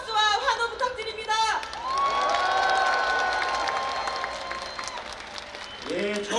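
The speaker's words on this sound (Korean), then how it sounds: "다시 한번 뜨거운 박수와 환호 부탁드립니다." Crowd at a Democratic Party campaign launch rally in Gwanghwamun square applauds and cheers loudly and steadily, with whoops over the clapping, while a voice briefly speaks at the start and again near the end.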